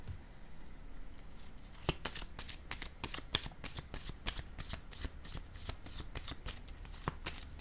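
Tarot-style cards shuffled for a card reading, a rapid run of crisp flicks and snaps that quickens midway, close and quiet against faint room noise.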